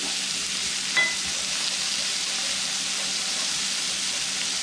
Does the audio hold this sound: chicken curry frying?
yes